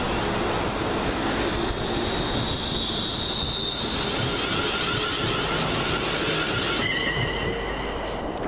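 A West Midlands Railway Class 350 electric multiple unit runs through Aston station on a Birmingham New Street to Walsall service. It passes as a continuous loud rumble and roar with a thin, high wheel squeal running over it, steady throughout.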